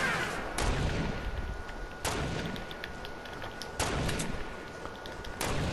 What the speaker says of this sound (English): Oh, they're sniping me.